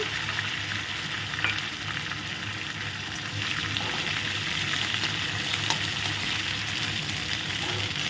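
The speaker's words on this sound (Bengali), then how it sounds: "দিয়ে দেব কারি পাতা, পেঁয়াজ, কাঁচা লঙ্কা কুচি," Curry leaves, onion and chopped green chili fry in oil in a pan, a dense, continuous close sizzle that stays steady and slightly swells partway through, with no speech.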